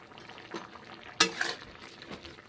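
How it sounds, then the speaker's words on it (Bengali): A spatula stirs a mixed vegetable curry in a pan, giving soft scraping strokes and one sharp clack over a faint, steady frying hiss, with no voices. "খুন্তি করে নেড়েচেড়ে রান্না করছি"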